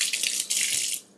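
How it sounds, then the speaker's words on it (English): Tap water splashing over a red pepper as it is rinsed in a sink, two short bursts of running water close by, then stopping. "let's just rinse it off"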